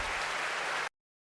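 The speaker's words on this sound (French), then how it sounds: "Des applaudissements forts pour les parents." Crowd applause for parents at a civic back-to-school gathering, a steady dense clatter of many hands that runs evenly and then stops abruptly into silence.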